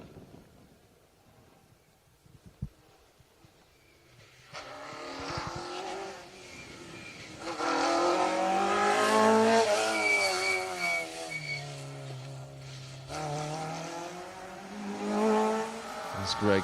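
A Citroen DS3 R3 Turbo rally car approaches on an asphalt rally stage and roars past, engine rising to a loud peak with gear changes and tire noise, then fading, with a commentator talking over it.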